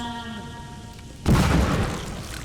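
A single deep, loud boom erupts suddenly in a video game battle simulator, cutting off a soft tonal hum and leaving a rumbling tail that slowly fades.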